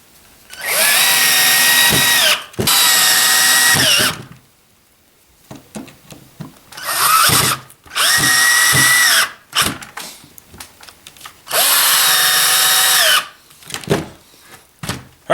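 Power drill driving number 8 sheet metal screws into plastic while building a sled-based portable ice fishing shanty, with three long loud whirring bursts and several short triggers between them, close up with no talk.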